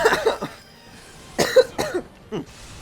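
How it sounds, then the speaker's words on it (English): Several sharp coughs in short bursts, close and loud, with brief pauses between them and no talking. "I tried not to comment on my coughing, but I coughed."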